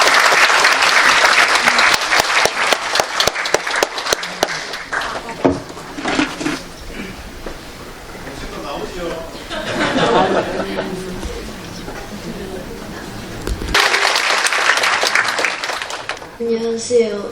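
Audience applause at a Gyeongbuk education book concert event, a full burst of clapping in a hall that fades, gives way to murmuring and movement, then swells again near the end.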